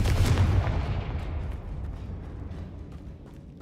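A Confringo spell explosion in the video game Hogwarts Legacy, a single loud booming blast that hits hard at the start and then rolls off into a long decaying rumble.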